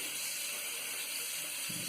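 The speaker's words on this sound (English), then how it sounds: "Turn off the water." Tap water runs steadily into a sink nearby while shaving soap is lathered with a boar brush, a soft continuous hiss without voices.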